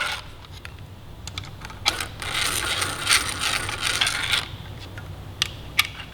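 Engine cover bolts on a Yamaha R3 sportbike are run down with a ratchet, a close, quick burst of pawl clicking in the middle with scattered metallic clicks and taps around it.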